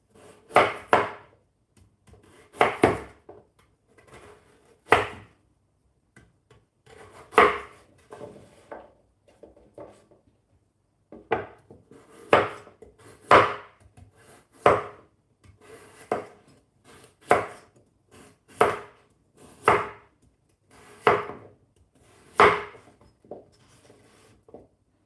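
Potatoes are cut with a knife on a wooden board, making sharp, dry knocks in irregular clusters at close range with short pauses between, no talking.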